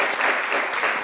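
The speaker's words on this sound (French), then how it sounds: "Ça, on applaudit." Applause from a studio audience on a live talk show, a steady dense patter of clapping filling the whole short moment at moderate loudness with no talk over it.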